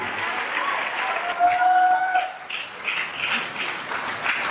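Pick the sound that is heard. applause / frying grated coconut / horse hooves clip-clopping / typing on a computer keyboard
applause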